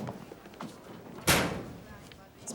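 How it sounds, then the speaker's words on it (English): A school locker door slams shut with one sharp, loud metallic bang that rings out briefly, heard amid quiet chatter and background talk in a hallway. "Is locker slamming some sort of guy bonding thing"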